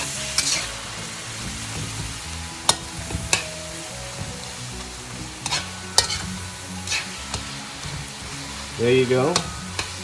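Beef slices with soy sauce frying over high heat, a steady sizzle broken by repeated scrapes and clacks of stirring, and a brief voice speaks near the end.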